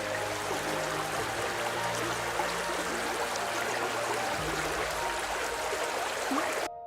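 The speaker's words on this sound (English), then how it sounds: "The sound of flowing water echoes through the canyon" Steady rushing and trickling water flows through hot spring pools in a canyon in Mexico, a constant broadband flow with no pauses, fairly close and even in loudness throughout.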